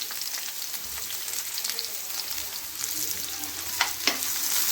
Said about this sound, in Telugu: ఉల్లిపాయలు అయితే వేసుకుని ఫ్రై చేసుకోవాలి.